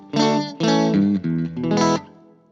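An electric guitar played through a Boss IR-2 amp and cabinet simulator with stereo reverb switched on, four sustained, slightly driven chords ringing out with a reverb tail fading at the end.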